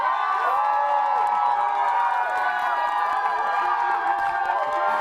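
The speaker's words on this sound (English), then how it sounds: "Cheer the loudest for who you think won." A live audience cheers and whoops loudly in a steady, sustained roar to vote for a contest winner, the crowd noise filling the whole stretch without pause.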